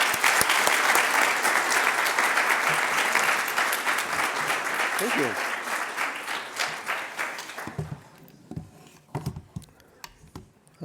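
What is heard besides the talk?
audience applause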